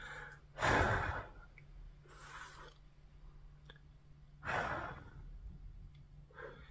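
A storyteller's voice imitates a king blowing straw aside to drink from an earthen water pot: two strong breathy blows separated by softer breaths and quiet pauses, close to the microphone.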